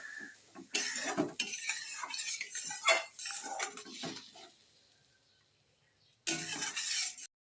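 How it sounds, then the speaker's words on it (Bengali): Spice masala with added water being stirred and fried in a pan for a duck egg and potato curry, clattering scrapes of a utensil against metal in bursts, close, with a quiet pause before a final flurry of stirring. "জল দিয়ে আমি আরো 3-4 মিনিট মশলাটাকে কষিয়ে নেব"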